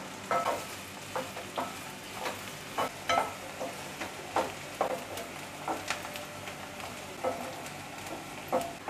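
Chillies and onion sauté in a pan while bomil fish and fenugreek methi bhaji is being cooked. A steady frying sizzle runs under repeated scraping stirs at a fairly even rhythm, close by, with no talking.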